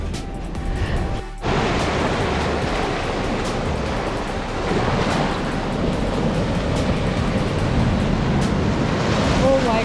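Ocean surf rolls continuously onto Om Beach at Gokarna on the Karnataka coast, a steady loud wash of breaking waves with some wind buffeting the microphone and no clear talk.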